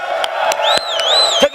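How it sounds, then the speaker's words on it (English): A crowd at a motivational speaking event cheers and whoops loudly, with shouted voices rising and falling over scattered clapping in a short, energetic burst. "All right, come on, round of applause."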